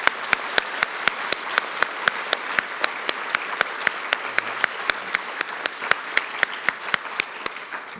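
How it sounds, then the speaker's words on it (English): A conference audience applauds the event planners with continuous clapping over eight seconds, a steady wash of claps with several sharp, close individual claps standing out in an even rhythm. "let's give them a round of applause"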